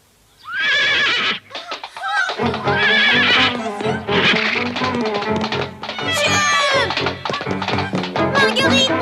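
A cartoon pony neighs and whinnies loudly in repeated bursts, with clip-clopping hooves and busy music underneath throughout.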